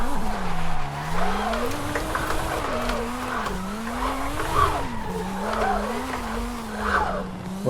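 A tuned drift car in Forza Horizon 5 slides with a continuous wavering tire squeal over a rising and falling engine note, the screech sweeping up and down as the car drifts, with no talk.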